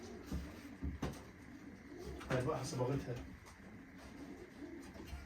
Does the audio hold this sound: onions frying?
no